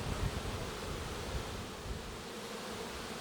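Honeybees swarm a queen cage inside a Ukrainian-Alpine hive during queen replacement, giving a dense, steady, close-up buzzing hum that holds evenly throughout with no voices.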